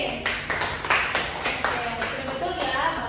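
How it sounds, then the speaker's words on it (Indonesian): A short burst of applause in a primary school classroom honouring a student named Fitri, several quick rounds of clapping rising and falling over roughly three seconds with room reverberation and faint voices underneath. "tepuk tangan untuk Fitri"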